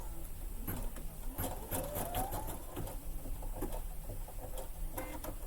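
A Baby Lock Flare embroidery machine stitches with quiet, rapid mechanical patter and clicks, heard close and faint, with no voices.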